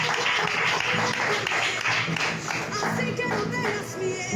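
Congregation in a church clapping continuously, a thick sustained applause with music or voices blended underneath, fairly loud and unbroken throughout.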